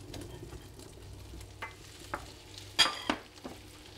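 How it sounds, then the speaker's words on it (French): Potatoes and leeks cooking in butter in a pot, giving a soft, low background sizzle with a few sharp stirring scrapes and clinks partway through. "on va faire revenir les légumes"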